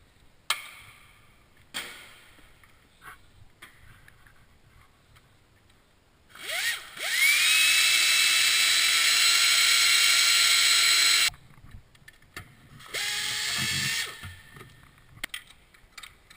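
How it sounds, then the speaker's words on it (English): A power tool spins on Kia Spectra Sephia water pump pulley bolts during a timing belt job. It gives two loud, sustained whirring bursts with rising pitch, separated by quieter ratcheting clicks and handling noises, close by and with no talk. "Before I loosen the alternator belt, I'm going to loosen the 3 water pump pulley bolts to ease in removal."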